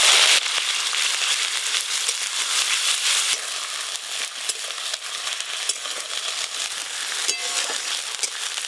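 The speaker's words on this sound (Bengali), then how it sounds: "পেঁয়াজ বাটা একটু ভালো করে ভাজা ভাজা হয়ে গেছে" Onion paste, made for a village-style katla fish belly curry, sizzles and crackles steadily in hot oil, close and loud, with occasional stirring scrapes running through the whole stretch.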